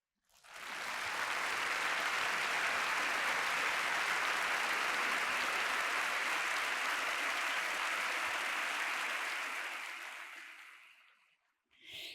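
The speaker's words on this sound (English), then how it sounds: "Let's give them a great round of applause" A large audience at a talk event with Serena Williams breaks into sustained applause that swells quickly, holds dense and loud for about nine seconds, then fades out, with a short final flutter of clapping.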